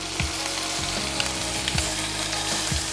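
Ossobuco meat browns in a frying pan with a steady, close sizzle, broken by soft periodic thumps as the pieces are moved in the pan.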